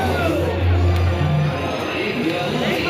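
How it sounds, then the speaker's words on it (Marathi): Dense crowd at Dagdusheth Ganpati darshan on the ninth day of the festival, a loud continuous babble of many voices and general hubbub close around. "गर्दी असते"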